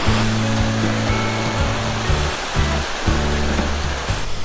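A roadside waterfall on the monsoon route to Darjeeling gives a steady, rushing roar of falling water, with a low humming rumble running underneath.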